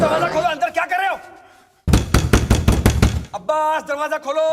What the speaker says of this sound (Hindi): अब्बास दरवाजा खोलो, अंदर क्या कर रहे हो?